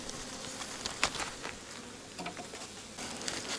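Bees in an opened winter beehive with frames full of bees: a steady, fairly faint buzzing hum throughout, with light scraping and handling noises from the frames mixed in and no talking.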